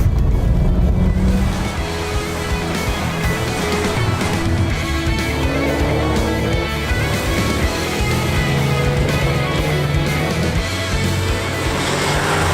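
A Nissan Skyline R34 drives along a wet, typhoon-damaged mall road, its engine a loud, continuous drone from inside the car, with the note rising and falling through gear changes and tyre and road noise underneath.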